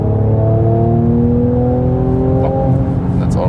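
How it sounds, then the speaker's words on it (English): Mercedes C43 AMG 2019 C-Class six-cylinder engine pulling hard in Sport Plus from 100 to 130, a loud low droning growl with rising tone inside the cabin, steady throughout. "a very sonorous, low frequency sound from the 6-cylinder engine"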